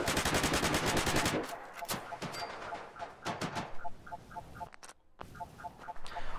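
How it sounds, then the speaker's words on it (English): Semi-automatic rifle gunfire in the video game Fallout 4: a fast burst of loud shots, then spaced single cracks, with beeping game interface tones and a short silence between. "That's just a rifle, it's a semi-automatic."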